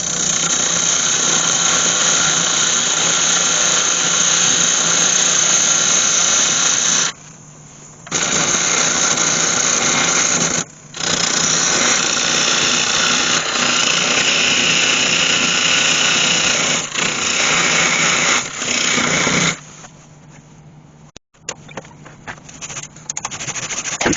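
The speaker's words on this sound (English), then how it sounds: "What I want to do now is just go through there with my parting off tool and separate those two halves" A parting off tool cuts through a cherry wood vase spinning on a lathe in a 4-jaw chuck, producing a loud, steady whine with two brief breaks and rough, fluttering cutting near the end.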